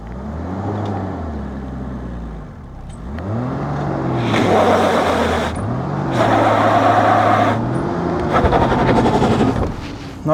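A classic BMW Dakar rally car stuck in Sahara sand, its engine revving up and down in repeated surges with wheel spin and grinding whirs, loud and close throughout, no talking.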